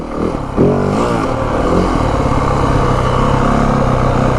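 A 2025 Yamaha WR450F dirt bike takes a rutted turn in first gear, its single-cylinder engine roaring loud and close, revving up sharply then holding a steady, throaty drone.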